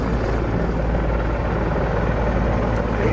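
An Air Force helicopter from the 221st Helicopter Squadron taking off, a loud, steady rotor roar and engine rumble filling the whole moment with no talk over it.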